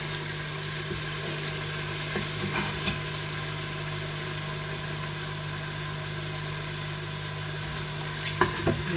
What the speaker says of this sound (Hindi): गोश्त बहुत अच्छा भून चुका है